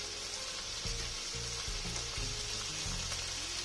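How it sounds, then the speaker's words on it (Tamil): Tomato masala with ginger-garlic paste and turmeric sautéing in a pan for vada curry, a loud continuous sizzle with scraping stirs and bumps from the spoon, no voices. "தக்காளி போட்டதும் அது ஒரு 3 நிமிஷம் வதங்கட்டும்"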